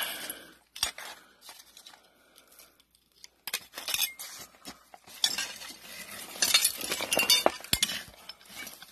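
An old spoon clinks and scrapes against glass and metal debris as it is dug out of a 1700s burn pit, with sporadic sharp chinks and rattling bursts growing busier toward the end.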